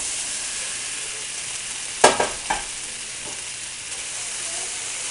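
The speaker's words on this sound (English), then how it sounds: "this is just a sizzling" A steady, close hiss of onions sizzling in a frying pan, broken by a few sharp clatters of stirring near the middle.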